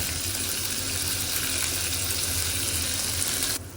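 Onions fry in a pan for moru curry, a dense steady hiss of sizzling oil that runs loud and close throughout before cutting off at the very end.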